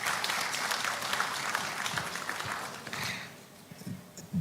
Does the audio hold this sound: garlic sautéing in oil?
no